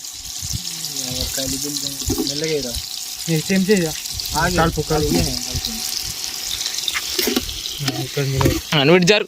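Onions and chillies fry in hot oil in a pot, giving a steady crackling sizzle beneath several people talking loudly and overlapping.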